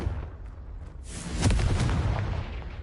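A Confringo spell explosion in the Hogwarts Legacy video game erupts as a deep, booming blast that swells about a second in, then rumbles and fades over a low steady background.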